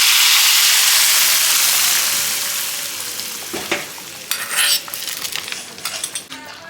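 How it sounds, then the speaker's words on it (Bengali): Chopped vegetables hit hot ghee in a pan for a khichuri, giving a loud, steady sizzle that gradually eases, followed by metal spoon scrapes and clinks as the mixture is stirred close by. "এবারে আমি তরকাটা দিয়ে দিলাম"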